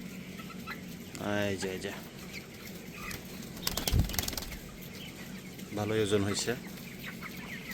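Broiler chickens on day 20 in a flock house at night give soft clucks and two bursts of wing flapping, while someone speaks close by throughout.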